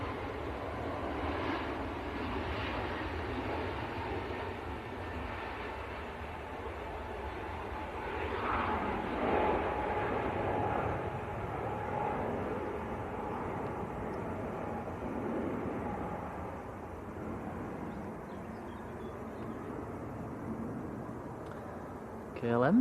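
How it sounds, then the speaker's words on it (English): A KLM airliner taxiing out at Manchester Airport, heard as a steady distant jet engine rumble and whine that swells a little midway, under a voice talking. "KLM taxiing out."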